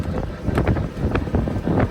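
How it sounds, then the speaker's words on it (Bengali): Cool wind blows along Marine Drive in Cox's Bazar, a loud, steady gusting rush buffeting the microphone throughout, with no clear speech. "ঠান্ডা ঠান্ডা একটা বাতাস আসতেছে খুব ভালো লাগতেছে"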